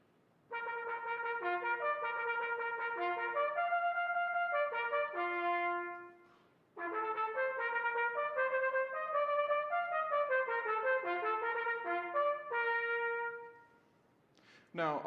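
A trumpet plays a 16th-note exercise, quick repeated notes in rhythmic runs that move between pitches, heard up close and alone, with a short pause midway.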